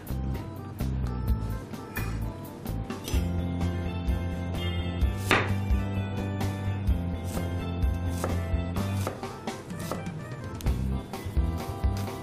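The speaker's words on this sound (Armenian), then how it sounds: "սոխը մանր կտրատում ենք" Rapid, continuous knife chopping on a cutting board, fast dense taps running for several seconds, close up, with no voices.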